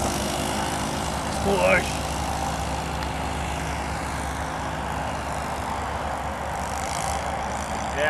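A model PCA-2 autogyro comes in to land with its propeller running, giving a steady buzzing drone under wind noise while a person speaks briefly.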